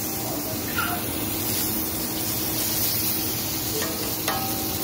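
Blackened salmon frying in Kerrygold butter in a pan, a steady close sizzle and hiss running throughout with a few faint clicks on top.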